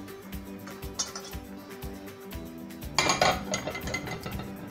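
Saltfish being lifted out of a cooking pot, with metal utensils clinking and scraping against the pot in quick irregular knocks, growing busier and louder with splashy rattling toward the end.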